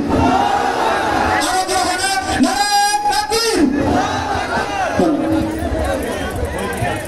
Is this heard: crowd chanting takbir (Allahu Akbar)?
yes